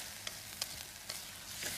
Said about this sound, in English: It's important when you're stir frying to keep stirring the food